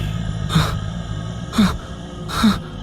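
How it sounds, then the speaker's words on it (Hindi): Three slow, heavy, rasping breaths with a groaning undertone, evenly spaced and close, sounding eerie. "तभी उसे भयानक सांसों की आवाज आने लगी।"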